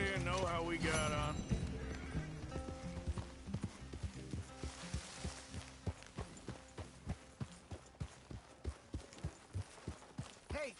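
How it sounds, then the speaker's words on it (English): Horse hooves clip-clop in a steady, regular rhythm through the Red Dead Redemption 2 video game, moderately close and growing more distinct in the second half, with game music and voices talking over the start. "Hey, careful with that horse!"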